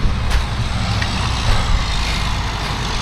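A concrete mixer truck rumbles steadily as it drives around a bend on a rainy job site. The engine drone is loud and close, and a few faint higher clanks come through.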